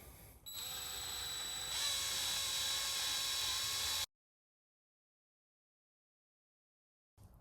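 Power drill boring into metal lubricated with thread cutting oil under slow, heavy pressure on a Craftsman 113 table saw fence job, a steady high whine with sharp tonal harmonics that shifts pitch midway, then cuts off into silence.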